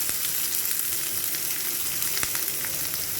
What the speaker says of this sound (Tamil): வெங்காயம் ரொம்ப வதங்கணும்னு அவசியம் இல்லை